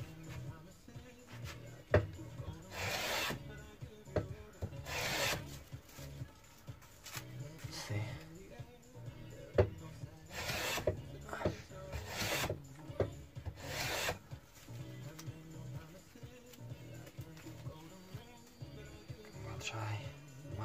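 A Lie-Nielsen No. 60 1/2 block plane shaves poplar in repeated close strokes, each pass a brief dry rasping swish with quieter handling noise between strokes.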